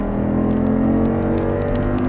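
An Audi R8 engine pulls at full throttle on a track, a loud sustained drone that stays steady, heard from inside the car.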